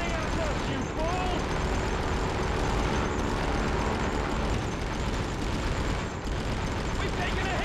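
Dense, continuous wartime battle from the PlayStation 2 game The Great Escape: sustained gunfire and explosions roar without pause, loud and close, with voices mixed into the din.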